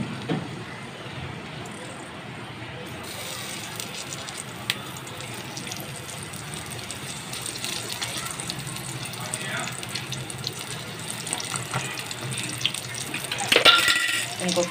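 Eggplant slices fry in a little oil in a pan, a steady close hiss and sizzle running throughout, with a brief clatter near the end.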